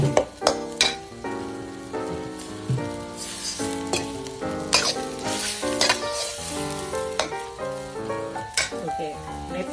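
Minced pork sizzling in a hot pan for Thai holy basil stir-fry, a loud steady frying hiss broken by repeated scraping stirs, with background music playing throughout.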